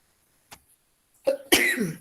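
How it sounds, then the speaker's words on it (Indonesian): A man coughs during a university lecture, with one soft short cough followed by a louder rough cough and throat clearing, close and alone in otherwise quiet surroundings. "aduh Bapak batuk ya"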